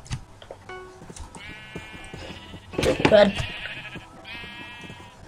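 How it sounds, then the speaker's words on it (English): Sheep in Minecraft bleat several times, with short repeated calls near and fairly loud. A voice speaks briefly between the bleats. "Sheep."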